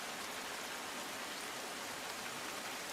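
Constant hiss of heavy rain pouring down in Ahmedabad, even and unbroken, fairly quiet in level.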